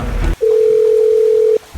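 A telephone dial tone sounds alone as a call is placed, a single steady, loud, close tone lasting just over a second between bursts of louder noise.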